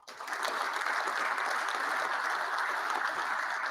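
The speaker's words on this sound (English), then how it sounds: "Big round of applause." Audience at an awards banquet applauding, a sustained wash of many hands clapping that swells in quickly and holds steady for several seconds, with no speech over it.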